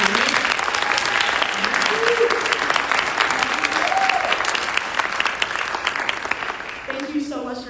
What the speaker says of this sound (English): Can I get a round of applause for being behind me?